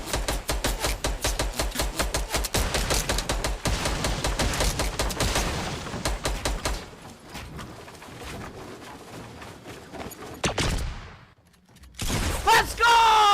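Impulse grenades go off in a video game amid dense rapid gunfire-like pops, a sharp blast near the end, and a voice talking over the action.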